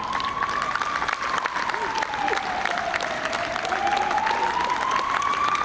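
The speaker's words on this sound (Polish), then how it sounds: "wszystkim uczestnikom, symulantom, osobom uczestniczącym w akcji należą się wielkie brawa." A conference audience claps steadily in a hall, with some cheering and crowd noise, while a sustained wavering tone runs underneath the applause.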